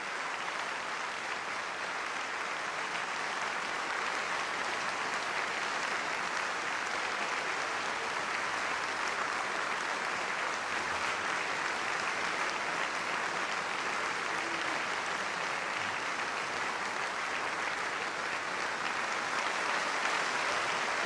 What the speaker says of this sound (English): And great applause from the audience here at the London Coliseum.